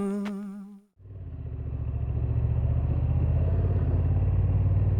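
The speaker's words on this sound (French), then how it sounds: "on se retrouve donc au guidon de cette nouvelle Honda Transalp 750 e-clutch" A Honda Transalp 750 E-Clutch motorcycle, a 2026 model on the road, pulls away after a short tone and builds into a steady, close engine drone that rises gently in loudness as the ride gets under way.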